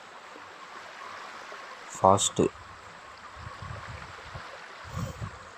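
Steady, roaring tsunami water floods across a Roblox game level, a broad wash running the whole time, while a voice briefly speaks over it.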